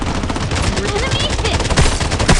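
Rapid automatic gunfire in the mobile shooter Blood Strike crackles in dense bursts over a couple of seconds, with sharper louder shots near the end and a voice partly under the shots.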